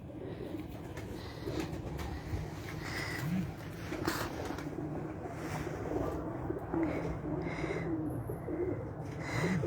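Teddy pigeons from Madina coo softly and repeatedly among a flock kept by a fancier, with a steady background hum and occasional bird chirps throughout.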